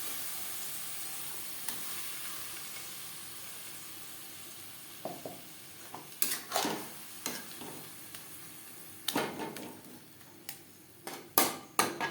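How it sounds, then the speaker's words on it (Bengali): Ground bottle gourd, added after garlic, is stirred in a pan over high to medium flame to dry it. A soft sizzle is followed by irregular scraping strokes and sharp spatula knocks that grow more frequent. "হাই টু মিডিয়াম ফ্লেমে নাড়াচাড়া করে ড্রাই করে নেব"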